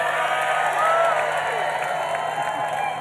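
A roadside crowd at the finish of the final stage of the Tour of Britain cycling race, Reigate to Guildford, cheers and whoops continuously for the British winner, a dense steady roar with voices mixed in.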